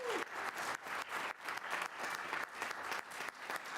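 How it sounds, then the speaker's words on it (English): An audience at a town board meeting claps steadily and fairly loudly for a few seconds, a dense indoor round of applause. "How about a round of applause for all of our"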